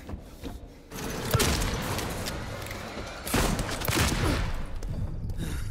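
Heavy gunfire during the final battle of Silent Hill 2 on PS5, with dense, sustained bursts of shots and booms that swell in two loud waves, nearly continuous and close.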